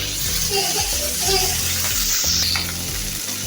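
Poa fish sizzles steadily in hot oil in a pan, a loud continuous crackling hiss with small pops and bubbling throughout.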